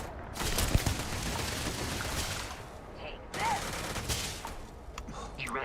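Bursts of gunfire during a firefight in the space game Starfield, a rattling fusillade of shots through much of the clip, fairly loud, with a brief lull near the middle.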